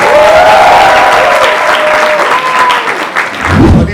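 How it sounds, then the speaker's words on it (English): Audience applause greets two film stars of Lavyapa on stage, a loud, dense wash of clapping and crowd noise sustained through the whole stretch, swelling again at the end. "give a big round of applause for Khushi Kapoor and Junaid Khan, the stars of Lavyapa"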